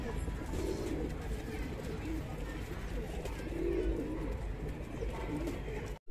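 Ambarsare high-flyer pigeons in Andheri West, Mumbai coo in low, burbling calls that recur every few seconds against a steady hum of background noise.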